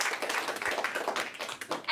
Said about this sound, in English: A big round of applause, please, guys.